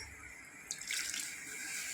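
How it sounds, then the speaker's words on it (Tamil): Water pours into a pot of eggplant and tomato curry in a soft, steady splash, brief and fairly quiet. "ஒரு 1/4 கிளாஸ் தண்ணி ஊற்றிக்கிறேங்க"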